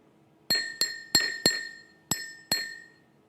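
Glass cup struck six times with sharp, bright clinks, each ringing briefly with a clear high tone before decaying, spaced irregularly over about three seconds and heard alone.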